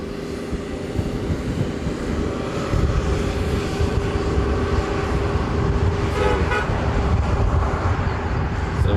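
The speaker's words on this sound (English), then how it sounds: "330 coming in from Qantas to a 787" A Qantas Airbus A330 airliner comes in to land, seen during plane spotting, as a loud, steady jet roar with a broad rumble that swells slightly partway through and stays constant.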